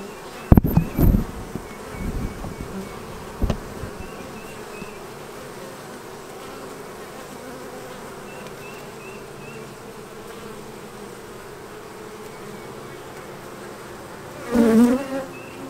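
Honeybees buzz steadily around a hive, close to the listener, heard through a beekeeping suit. The drone holds throughout, with a few louder nearby wingbeat passes and brief handling bumps at the start and end.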